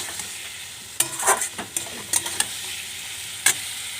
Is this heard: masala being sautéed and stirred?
yes